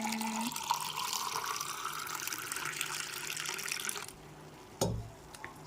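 Freshly pressed sugarcane juice streams into a glass with a continuous watery pour, then it stops and a short clink and knock follow.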